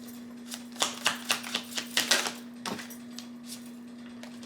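Tarot cards shuffled and drawn by hand, a quick run of crisp snapping clicks and flicks bunched together in the first three seconds, then a few softer taps trailing off against a steady low hum, with no voices.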